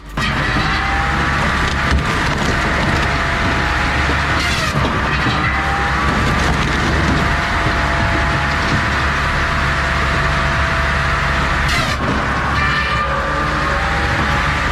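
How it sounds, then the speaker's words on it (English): Easton Made 48C Wood Monster, a machine with a 15 horsepower saw and a 10-ton stump splitter, runs in a continuous loud mechanical roar with grinding and splintering wood, briefly dipping twice. "This Easton Made 48C Wood Monster features a 15 horsepower saw and a 10-ton stump splitter."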